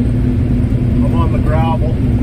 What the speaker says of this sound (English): just idling up the Range Road here